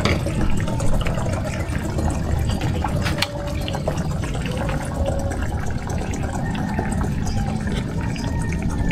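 Tuba coconut wine pours steadily into a container, a continuous loud splashing and gurgling fill heard up close for several seconds with no break.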